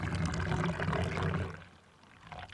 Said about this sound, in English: I'm using a tin mug because I might smash a ceramic one. Good height on the pour there.